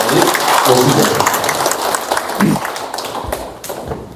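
A lecture audience at a Korean university claps to welcome a doctor to the podium, a dense, steady wash of hands that fills the whole stretch and slowly thins toward the end.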